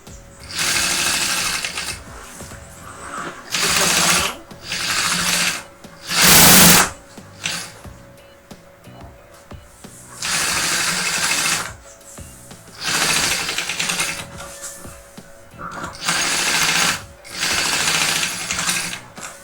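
A sewing machine runs a straight seam on a fabric lunch bag in repeated bursts of a second or two each, with a whirring motor and a rapid needle chatter. Short quiet gaps separate the runs, and one louder sharp burst falls in the middle.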